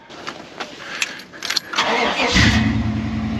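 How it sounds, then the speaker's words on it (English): A car engine cranks over with quick starter bursts, then catches and settles into a steady, loud idle close by. "Let's go turn the car on."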